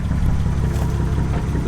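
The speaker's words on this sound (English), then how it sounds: "This thing is pretty rough, as you can probably hear from the video." A Lexus LS400 engine running rough, a loud, close, low rumbling idle with uneven clattering pulses and a steady throb throughout.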